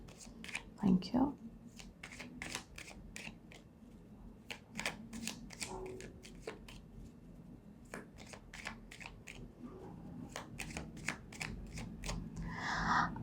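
Cards are shuffled for a tarot-style card reading: a steady run of crisp riffling snaps and flicks, close and moderately loud, with a brief low voice murmur near the start and a soft rustle toward the end.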